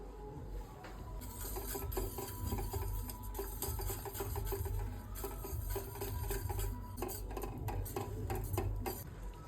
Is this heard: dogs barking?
no